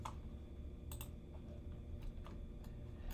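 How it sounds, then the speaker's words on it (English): Keys clicking on a computer keyboard as a short code is entered into an online university application form, a few soft, faint taps scattered over low background hum with no talking. "I'll just type GH."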